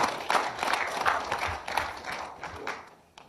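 Audience applause for a speaker at a small-business forum in Yeoju, a dense patter of clapping hands from a nearby crowd that holds steady and then fades out over a few seconds.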